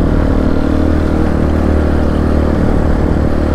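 A Honda XR200 motorcycle being ridden, its engine droning steadily and loudly with wind and road rumble, continuous and close with no talking.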